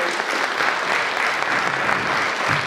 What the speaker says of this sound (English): I just wanted to take a moment to give everybody a round of applause for hosting this